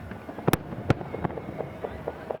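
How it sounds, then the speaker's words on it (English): Fireworks bursting outdoors around Independence Day, with a few sharp loud cracks followed by a quicker scatter of softer pops and crackles. "fireworks can be fun for us, but frightening for our pets"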